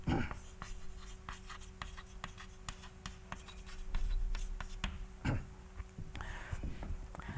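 Quick strokes and taps of writing on a board during a mathematics lecture, a run of short scratchy marks, fairly faint, over a low steady room hum.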